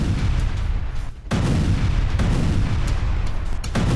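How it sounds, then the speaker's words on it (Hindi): Booming blasts from an airstrike on a Hezbollah ammunition depot, a dense continuous roar of loud explosions and rumbling, briefly dipping near the start before resuming, with no talk. "हमले में हिजबुल्ला का एमिनिशन डिपो तबाह हो गया"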